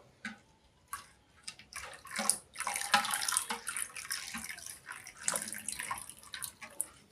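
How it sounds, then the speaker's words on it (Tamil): Water pours into strained wood apple juice in a kitchen, splashing in short uneven bursts that trickle and slosh, fairly faint and close. "ஏற்கனவே கரைச்சி வச்சுருக்க வெள்ளை தண்ணி இதில் சேர்த்துக்கலாம்"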